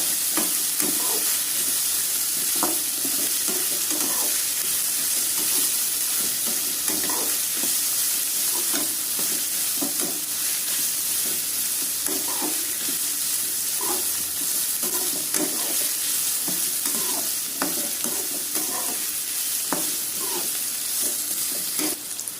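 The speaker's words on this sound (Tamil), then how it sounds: "ஒரு மூணு பச்சை மிளகாய் அதை வந்து குறுக்கு வாட்டில் வச்சு வேக வச்சுருவோம்" Onions and green chillies fry in a pan, a steady loud sizzle with intermittent scraping stirs recurring throughout.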